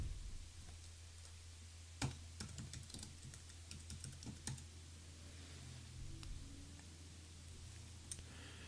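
Typing on a Mac computer keyboard in a quiet room, a close, fairly soft run of key clicks in uneven bursts with a few louder taps, heard alone without talk.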